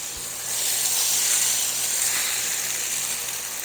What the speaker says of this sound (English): take your sausage and make it into some large patties and go ahead and get them in the skillet